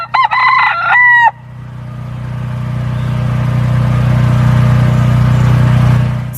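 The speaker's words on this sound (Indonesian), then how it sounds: "seekor ayam." A chicken crows in a cartoon-style animal cleaning game, a short loud burst of harmonic calls up front, followed by a steady low engine-like drone that rises and holds to the end.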